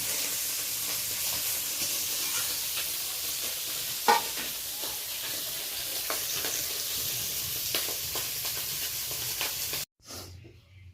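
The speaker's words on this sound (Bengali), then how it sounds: "একইভাবে মাছগুলো ভেজে নেব অল্প অল্প করে, একসাথে সব মাছ ভাজার কোনো দরকার নেই।" Small parshe fish sizzle in hot oil in a wok, a steady loud frying hiss with occasional crackles and pops that stops abruptly near the end.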